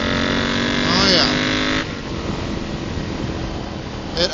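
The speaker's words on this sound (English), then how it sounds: "It absolutely wants to scoot. The revs shoot up considerably faster. That throttle kicks in." A Royal Enfield motorcycle with a DNA performance air filter and freer-flowing exhaust revs up sharply, its pitch climbing before dropping back to a rumbling, steady run nearby.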